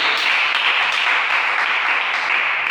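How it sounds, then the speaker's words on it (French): Dense, continuous applause from a church congregation at a midnight worship service, steady and loud throughout with no pauses. "lui rendre la gloire par des acclamations"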